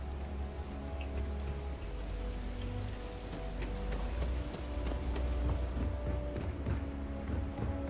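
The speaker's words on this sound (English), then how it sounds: "Oh, it's raining out." Steady rain in the video game Starfield pours continuously over a low rumbling background, with scattered drops pattering close by and no voices.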